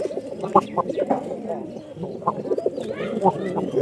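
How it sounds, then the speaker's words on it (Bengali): Pigeons kept in a loft cooing, several low rolling coos overlapping in a close, continuous chorus with a few sharper calls and wing or movement sounds. "পায়রা ডাকতেছে"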